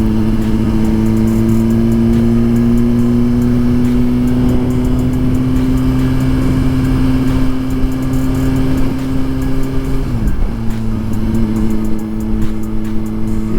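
A 2023 Suzuki GSX-R1000 sport motorcycle engine hums steadily at a constant pitch while riding in the rain, with a brief dip and recovery near the end, loud and continuous with no talking.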